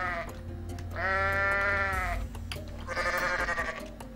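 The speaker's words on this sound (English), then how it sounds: "I hope some of these screams get patched into that Skyrim mod I've got with all the goats screaming." A goat in Goat Simulator lets out two long, loud, wavering screams separated by a short pause, with scattered clicks and thumps of game action around them.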